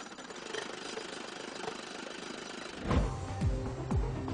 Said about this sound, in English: it's up to a machine called the rotary swedger to reshape each tube into a precisely